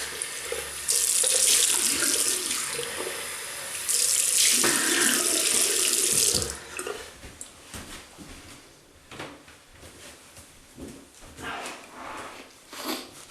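Bathroom tap running into a sink for a post-shave rinse, a loud close hiss in two bursts of a few seconds each, then splashing and dripping as the water is turned off.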